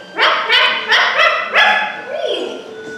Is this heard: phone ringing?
no